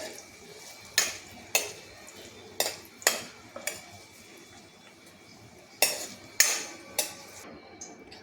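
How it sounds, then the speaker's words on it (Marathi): Paneer frying until crispy in a pan for palak paneer, with about ten sharp metallic clinks of a spatula against the pan, spaced irregularly over a quiet, faint sizzling background. "आता आपण याला छानपैकी क्रिस्पी एकदम तळून घेऊया."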